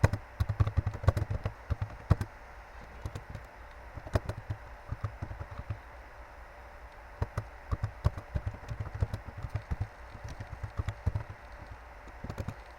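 Someone types a comment on a computer keyboard, producing a steady run of quick, light key taps with uneven rhythm, close by and moderately quiet, with no talking.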